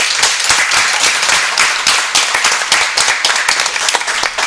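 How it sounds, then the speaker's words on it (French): Loud, dense applause and clapping fills the room for a visiting school group, the Aliou Fatima school complex, at a quiz contest event, steady throughout with sharp individual claps standing out. "On les applaudit très très très fort"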